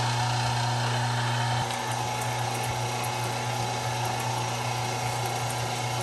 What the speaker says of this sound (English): this pork chop and applesauce have a date with the grinder